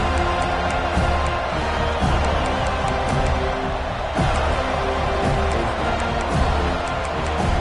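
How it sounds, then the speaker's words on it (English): A home crowd at a Florida State versus Miami college football rivalry game roars in a steady, dense wash of cheering and noise that holds at full volume throughout, with occasional claps and a brief surge near the middle. "This crowd ready to make its presence known."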